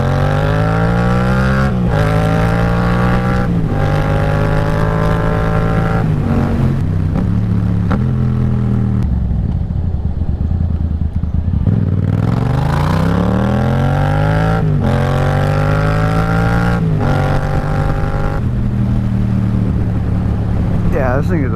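A Yamaha FZ-07 motorcycle engine revs up and shifts through gears while riding, each rise in pitch followed by a drop at the shift, loud and close with wind noise, sustained throughout.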